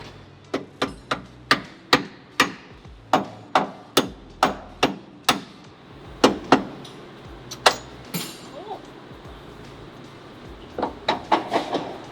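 Sharp hammer strikes in a steady, quick rhythm, close and loud, pausing briefly midway before another fast burst of blows, while fitting a new K-member on a car in a motorsports shop.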